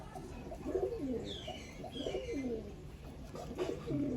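Pigeons coo repeatedly in a loft, several soft overlapping coos rising and falling close by, with faint chirps in the background and no talking.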